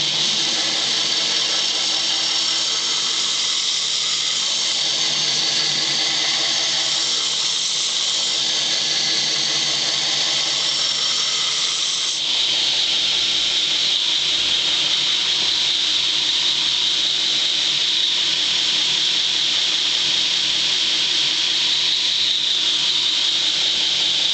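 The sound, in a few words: grinding a flat grind on a knife blade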